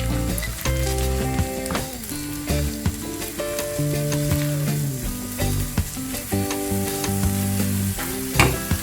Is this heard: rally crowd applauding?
no